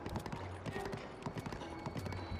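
Horse hooves clip-clopping at a steady galloping rhythm in Zelda: Breath of the Wild, loud and close, with faint game ambience and light background sounds.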